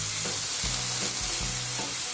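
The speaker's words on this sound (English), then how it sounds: "So make sure guys that your grill is really hot. Okay, so first I'll put in my stuffed squid." Stuffed squid sizzles loudly and steadily on a very hot grill pan, a close, continuous hiss with a low rumble pulsing underneath.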